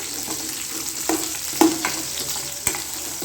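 Small garlic cloves and shallots sautéing in oil for a radish curry, a steady close sizzle with a few quick stirring knocks and scrapes, no voices.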